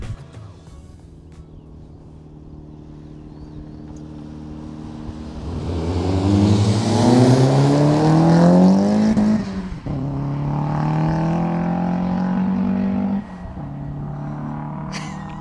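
A turbocharged Fiat Uno and a 2.0-litre turbo VW Polo R WRC launch from a 30 km/h rolling start in an acceleration race, engines swelling to a loud, rising roar through the gears as they pass close, then easing and fading.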